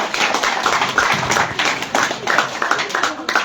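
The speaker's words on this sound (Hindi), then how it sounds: "आरो भी तालियां बजा स्वागत करो।" Village gathering audience clapping to welcome a school PTA member: fairly close, uneven rhythmic hand claps from a modest group, coming in pulsing bursts rather than a smooth roar.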